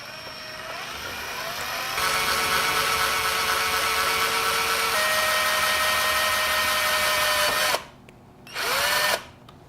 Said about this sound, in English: I'm drilling in the computer body right here